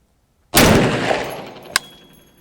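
A single loud rifle shot from a .350 Legend cracks out close by outdoors in damp, wet weather, then a long echoing decay follows with a brief sharp click near the end.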